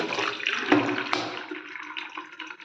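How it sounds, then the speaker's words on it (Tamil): Water from boiled plantain pours off through a colander in a home kitchen, a steady close splashing rush with a few sharper spatters, no voices. "ஒரு கண்தட்டில் தண்ணியை வடிச்சுக்கலாம்"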